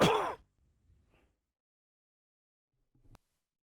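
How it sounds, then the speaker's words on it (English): Close breathing into a microphone, with one loud rushing exhale at the start, then near silence broken by a faint soft breath and a short muffled bump at the end. "We can hear you breathing."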